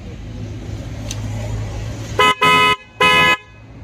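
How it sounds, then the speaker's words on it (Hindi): Three short, loud trumpet-style Hyundai Creta car horn blasts, brassy, sound one after another from a Royal Enfield Bullet 350 motorcycle over its low idling engine. "क्रेटा का ही हॉर्न लगा है इसमें,"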